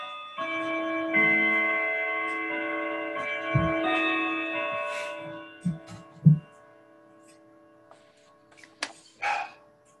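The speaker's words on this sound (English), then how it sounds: "And with the chimes" Chimes ring out during a pagan blessing rite, a sustained bright tone that sounds clearly and then slowly decays, followed by a few soft knocks and rustles in an otherwise quiet room.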